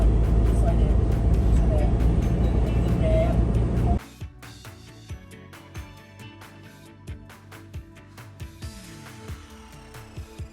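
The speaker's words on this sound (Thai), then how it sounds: "อนนี้อยู่บนรถกันแล้วนะครับทุกคน" Riding inside a car on a family holiday trip to Sattahip, Thailand: a loud steady road rumble fills the cabin for several seconds, then drops to a quieter interior hum broken by scattered clicks and light knocks.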